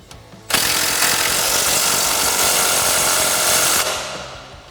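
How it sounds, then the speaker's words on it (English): A 3/8-inch impact gun fitted with an 18mm socket tightens a bolt while a front leveling kit goes onto a Ford F-250. One loud, close burst of hammering buzz holds steady for about three seconds, then winds down. "I'll take my 18mm on my 3/8 gun"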